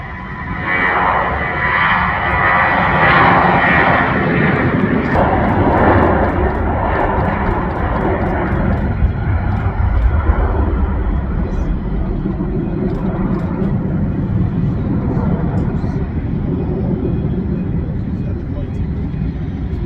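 A Learjet A35A accelerates down the runway at Birmingham Airport for takeoff, a loud, sustained jet engine roar heard from nearby that holds steady throughout, with a voice talking over it.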